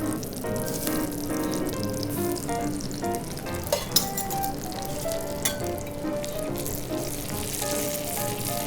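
Butter sizzles loudly on a teppanyaki griddle as a little lemon goes in, a dense close crackle with a few sharper spits and hisses, no talk.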